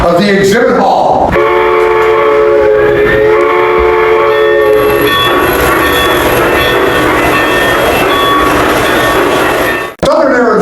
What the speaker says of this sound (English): our G-scale, garden-scale railroad that runs around the top of the exhibit hall